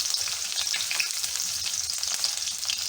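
Ginger pieces and two green chilies frying in hot oil, a steady, dense sizzle and crackle heard up close and alone.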